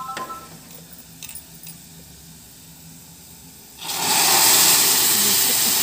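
Asafoetida and spices hit hot oil for mixed arhar and urad dal, bursting into a loud, steady sizzle after a few seconds of quiet kitchen sounds with faint clinks.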